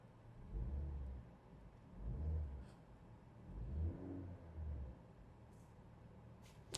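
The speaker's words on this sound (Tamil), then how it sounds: "லைட்டாக ரேவ் பண்ணி பார்ப்போம், ஆக்சிலரேஷன் கொடுத்து பார்ப்போம் உள்ளுக்குள்ளே நாய்ஸ் எப்படி இருக்குன்னு" Inside the cabin of a Maruti Suzuki Ertiga, its 1.5 litre four-cylinder engine is revved lightly several times, each rise a muted, low hum swelling and fading at a low level.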